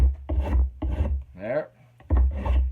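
Spokeshave drawn along a wooden axe handle in a single rasping shaving stroke, close and distinct, set between stretches of someone talking.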